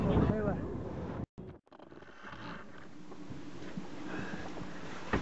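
Strong wind of about 38 knots buffets a single-handed sailboat in wind-over-tide conditions off the British coast, a steady broadband roar with a brief dropout, while a voice talks over it.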